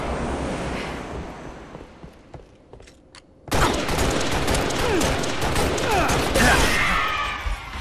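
Video game gunfire during a SWAT training match: a quieter, muffled stretch gives way to a sudden loud barrage of rapid shots and crackling bursts that continues to the end.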